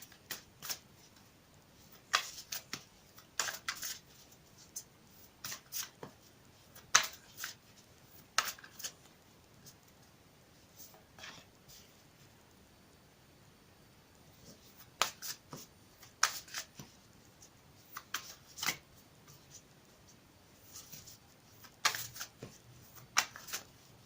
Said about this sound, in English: I will shuffle it again for you on camera